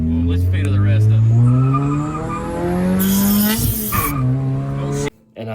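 A car doing a burnout howls with revving engine and squealing tires, pitch climbing and dipping over several seconds before cutting off abruptly, with voices audible over the noise.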